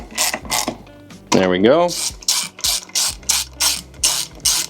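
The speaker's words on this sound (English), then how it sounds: "So I'm gonna tighten these until I feel just a little bit of resistance, each one." A ratchet drives the axle bolts on a Onewheel XR Classic during a tire change, with a burst of regular clicking strokes, a squealing rising whir, then a steady train of loud close ratchet pulls; a brief voice speaks.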